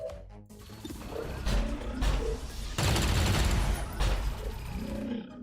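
Gunfire in the video game XCOM 2 Long War, a burst of rapid shots and crashing impacts that swells loud in the middle of the clip, alone without talk.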